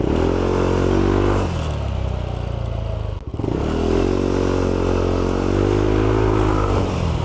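Yamaha Aerox v1 scooter engine with upgraded rollers revs up loudly and close in two rising-and-falling sweeps, a brief dip and clatter between them, with no talk.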